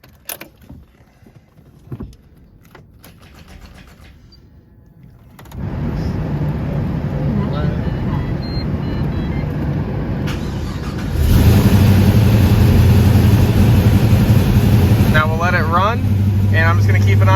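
2004 Pontiac GTO V8 cranked and started after a few key clicks, settling into a loud, steady idle close by that swells louder partway through and keeps running, with a blower fan whirring in the background.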